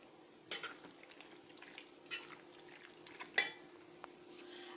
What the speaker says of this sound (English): I'm going to add 3 eggs to this. Assistant Chloe, please help me throw in my egg. I'm going to mix it together.